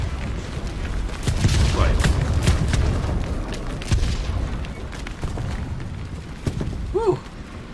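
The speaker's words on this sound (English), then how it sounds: "Here comes a team kill with my artillery." Artillery fire in War Thunder, a World War II vehicle combat game, with booming blasts around the 1–3 second mark in a rumbling battle, a voice speaking briefly near the end.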